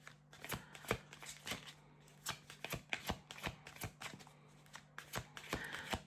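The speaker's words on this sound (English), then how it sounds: "So I'm just pulling cards here" Tarot cards riffled and flicked in a quick, irregular run of crisp papery snaps, close and fairly soft, with a steady low hum underneath and no talking.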